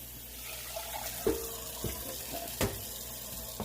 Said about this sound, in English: And then I'm just going to add another cup of water to this rice.